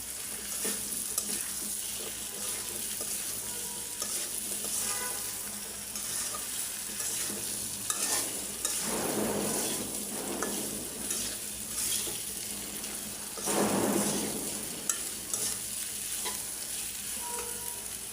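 Hog plum (amra) pickle is stirred in a pan with a spoon, scraping and sizzling continuously at close range, with two louder sweeps of stirring in the middle and no talking.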